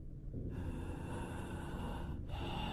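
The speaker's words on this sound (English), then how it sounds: "The sound of someone breathing into their microphone was what I was greeted with." Close, loud breathing into a headset microphone, airy and steady with a brief break near the end, heard on its own.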